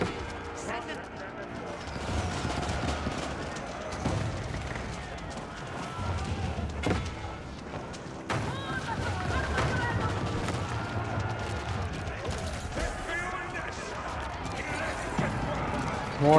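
Cannon fire and gunfire rattle through an Age of Empires 4 battle between Mongol and English armies, a dense, continuous clatter of overlapping shots and booms at steady loudness.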